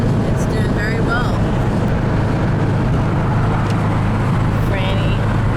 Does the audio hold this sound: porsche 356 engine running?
yes